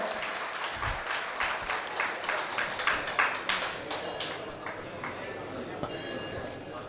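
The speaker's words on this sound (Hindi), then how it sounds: "रमेश भास्कर, तालियां बजनी चाहिए" An audience at an annual meet claps as president Ramesh Bhaskar walks onto the stage, the applause loose and irregular, with scattered sharp claps and a voice talking over it.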